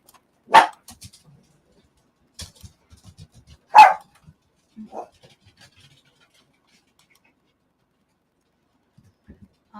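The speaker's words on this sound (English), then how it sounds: "Our babies like to bark." Dogs at home barking in a few sharp, separated outbursts, with faint clicks and rustles between and long quiet stretches.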